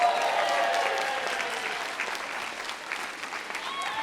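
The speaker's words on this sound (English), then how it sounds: "Give me a round of applause." An audience at a talk on raising LGBTQ+ youth gives a dense round of applause, loud and sustained at first, then gradually thinning and softening.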